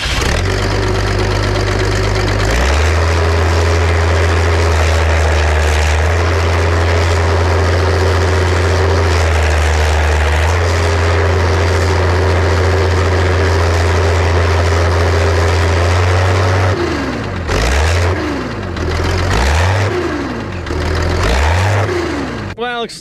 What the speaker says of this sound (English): now let's fire it up for the first time and learn together what sort of unique exhaust note comes out